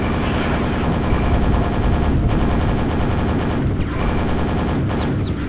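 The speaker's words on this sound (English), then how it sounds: "super nail gun" Super nail gun firing continuously in the Quake video game, a loud, dense rattling stream of rapid shots with brief dips, no talk over it.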